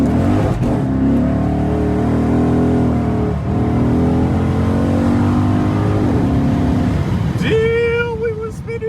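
A 2008 Dodge Charger SRT8 accelerating hard with wheelspin, its engine roaring loud and steady close by as the pitch climbs, with a sharp tire squeal rising near the end.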